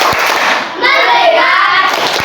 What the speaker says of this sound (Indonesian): ikutin dulu ibu bertepuk tangan